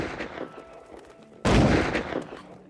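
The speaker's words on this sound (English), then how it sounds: "gunshots split the air" A gunshot cracks out at a gate, one sharp loud blast partway through that rings on and fades, set against a dramatic musical background.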